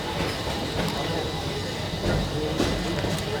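Busch Gardens park train rolling along in Atlanta, a steady rumbling ride noise with faint clattering, heard close and continuous from on board.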